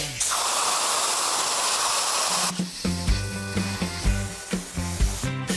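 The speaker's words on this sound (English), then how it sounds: "he's gonna end up gas welding right through" A gas welding torch on a vintage-style custom speed machine hisses steadily and loudly for a couple of seconds, then gives way to a run of sharp hammer-and-dolly knocks on metal.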